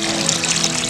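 Tapioca pieces being washed in water: a steady, continuous trickle and pour of water, close and fairly loud, with no talking.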